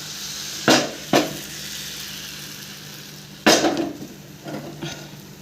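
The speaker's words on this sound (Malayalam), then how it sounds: "നമുക്ക് ചട്ടി ചൂടായ ശേഷം മാവ് ഒഴിക്കാം" Egg dosa batter poured onto a hot dosa pan, giving a few sharp sizzling bursts with a short gap between them, close and fairly loud, each fading into a low steady hiss.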